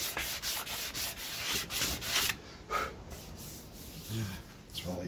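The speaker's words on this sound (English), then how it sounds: "Power tools seem to work quite well. Getting the worst of the finish off." Power sander stripping old finish from wood, a steady abrasive rubbing that swells and fades in repeated passes of uneven length, close and moderately loud, with no talking.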